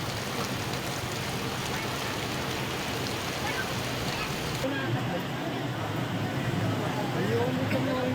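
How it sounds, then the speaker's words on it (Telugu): Heavy monsoon downpour over Hyderabad, a dense, continuous roar of rain filling the whole stretch with no breaks, steady and loud throughout. "జంట నగరాల్లో కుండపోత వాన కురుస్తోంది"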